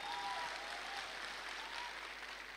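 Audience applause at a speech event, fairly distant and continuous steady clapping, with a faint sustained tone in the background.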